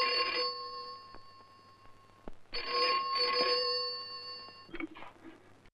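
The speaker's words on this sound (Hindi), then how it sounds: "तुम्हारा टेलीफोन। फिर से टेलीफोन?" A telephone rings in two long bursts of bright, trilling bell tone, separated by a short pause, with a steady low hum underneath.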